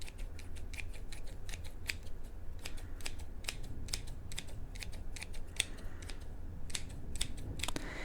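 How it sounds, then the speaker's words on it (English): Rapid, crisp snipping of scissors, many quick clicks close up in a steady irregular rhythm, with no voices. "these scissors don't really have that much ASMR potential"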